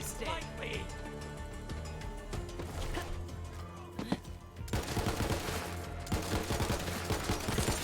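Pistol gunfire in the video game Borderlands 3, with dense rapid shots and bursts over a continuous game soundscape, turning louder and more crowded in the second half.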